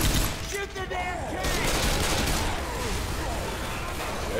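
Rapid video-game gunfire rattles steadily through a chaotic shootout with a tank, dense and continuous alongside game noise, with a voice talking over part of it.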